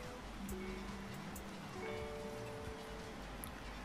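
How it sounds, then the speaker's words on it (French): Rain falls in a virtual Japanese city in a video game, a soft, steady patter under faint tonal game sounds, quiet and unbroken. "Bah c'est super, il pleut."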